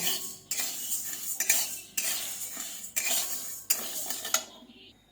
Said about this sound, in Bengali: একটু ভেজে নেব মুগ ডালটাকে আমি ভালোভাবে মানে খুব বেশি ভাজবো না মোটামুটি ভেজে নেব